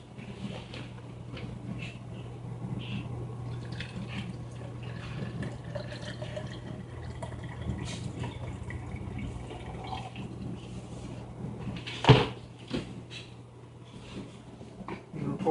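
Tomato drippings for salsa are poured from a bowl as a faint, uneven trickle and drip over a low steady hum, with a sharper knock near the end.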